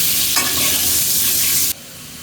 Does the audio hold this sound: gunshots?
no